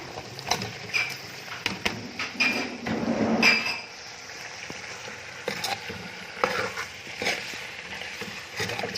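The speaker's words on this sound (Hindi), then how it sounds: "अच्छी तरह से हिला के ताकि मसाले का कोट अच्छी तरह से हो जाए चिकन के ऊपर।" Chicken stirred through frying masala in a pot, a spoon scraping and clattering in irregular bursts with a soft sizzle beneath, close and fairly loud.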